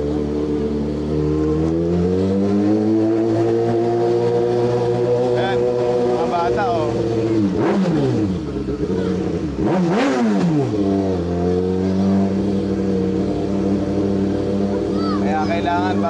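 A Kawasaki ZX-6R motorcycle engine warms up and revs loudly nearby, holding a rough steady idle with two sharp throttle blips that rise and fall, while someone talks over the noise.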